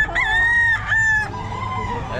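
A Boston Roundhead gamefowl rooster crows loudly and close at the Bocaue pet market, a single drawn-out call in two bursts, followed by quieter market background.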